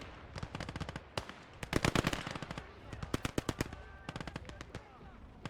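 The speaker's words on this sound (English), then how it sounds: "MG-34's caught some Soviets in the open." MG-34 machine gun fire in the Gates of Hell World War II game, rapid bursts of sharp cracks coming in clusters across the whole stretch, mixed with scattered battlefield gunfire, some bursts louder and nearer than others.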